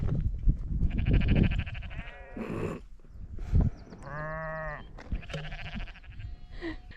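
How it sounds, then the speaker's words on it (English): Several sheep bleat repeatedly, some near and loud, others farther off, in overlapping wavering calls with soft outdoor background noise. "The soundtrack to this walk has definitely been sheep, as if on cue."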